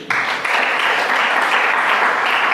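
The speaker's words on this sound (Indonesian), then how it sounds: "Tepuk tangan dulu." Steady, dense applause from a crowd, sustained and fairly loud throughout with no voices breaking through.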